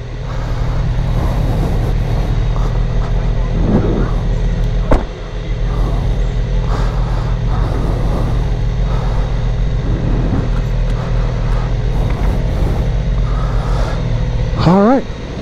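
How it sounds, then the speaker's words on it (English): A C8 Corvette drives on a race track, its engine droning steadily from inside the cabin with brief rises in revs, while someone talks over it. "I'm in the C8 Corvette, and I'm going to try to see just how long I can hang with him."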